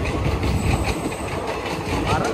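A train passes close by at a railway crossing, giving a steady loud rumble with rhythmic wheel clatter and a faint high squeal, with no talking.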